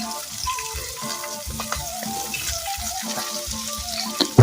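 Chopped beans and carrot frying in a pan for upma, a close crackling sizzle with irregular clinks and scrapes of stirring, no voices.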